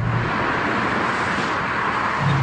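Carlsson CK63 RS, built on a Mercedes W204 C-Class, cruising on the autobahn with a dense, steady roar of road, tyre and wind noise heard from inside the car.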